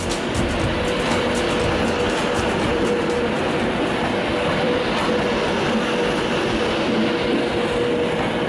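A train at Manchester Piccadilly station rumbles steadily and loudly with a dense, continuous roar and faint rail clatter, sounding close with no speech over it.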